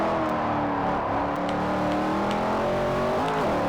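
A Chevrolet Corvette C6 ZR1 engine in the racing game Forza Motorsport 4 drones loudly and steadily at high revs, pitch wavering slightly with a brief rise near the end, close and continuous without a break.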